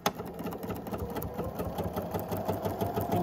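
A sewing machine with a quarter-inch foot stitches a quilt block, running steadily with a close, even mechanical whirr and rapid needle chatter throughout.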